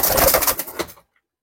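Black nun fancy pigeons coo in a breeding loft, giving a close run of soft, throaty pulses that stops abruptly into silence.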